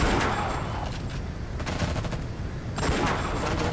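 Rapid automatic gunfire rattles in the war video game Act of War, with dense overlapping bursts and loud volleys that ease briefly before intensifying again.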